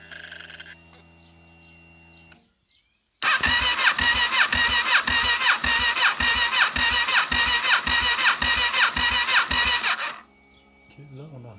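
A Kawasaki ER6N motorcycle engine under restoration after a piston change cranks loudly with a rapid, even rhythmic churning for about seven seconds without catching, then stops, leaving quiet background sounds.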